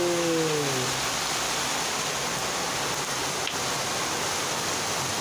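Heavy rain pours in a constant, loud, wash of hiss and roar, with a brief low voice-like tone fading out at the very start.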